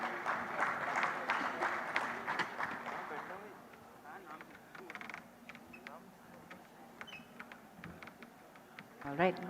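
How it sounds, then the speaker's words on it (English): Audience applause for panelists at the GCCI Gujarat Sustainability Summit, clapping in a hall that fades after a few seconds, followed by footsteps, stage sounds and a voice. "let's give them a big round of applause"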